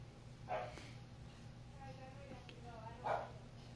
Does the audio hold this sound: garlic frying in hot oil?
no